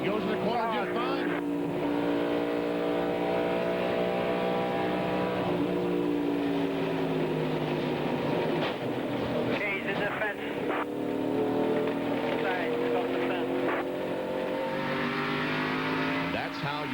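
A NASCAR stock car at Darlington in 1998, recorded onboard, roars continuously with its engine pitch rising and falling through the turns. A commentator talks over the steady engine noise.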